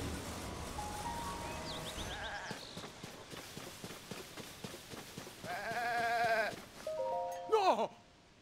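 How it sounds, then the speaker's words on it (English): White goats in Zelda: Tears of the Kingdom, several wavering bleats in the second half, loud and close over game music and footsteps, with a final bleat near the end. "Oh, those are my white goats. This is where they ran off to."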